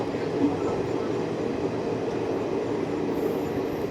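The Gujarat Superfast Express, 22953, runs on rails between Vadodara and Ahmedabad, heard from inside an AC chair car as a steady, loud rumble of wheels and track that holds level throughout.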